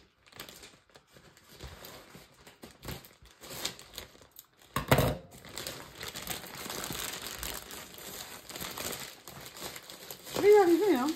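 A parcel envelope is opened up close, with paper crinkling and rustling in bursts and a louder tearing crackle partway through, and a voice briefly joins near the end.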